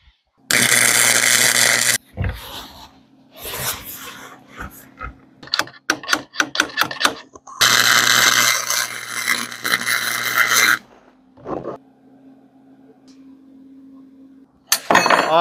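Tack welding metal pieces onto a wheelbarrow go-kart frame, with loud close bursts of crackling, sizzling arc noise lasting a second or two, separated by quieter gaps and short clicks.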